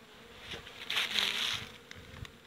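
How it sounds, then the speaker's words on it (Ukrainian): Honeybees flying actively around their hive on a warm spring evening after overwintering, a steady buzzing hum that swells briefly and then settles, moderately close, with no talking. "Вже вони активно літають."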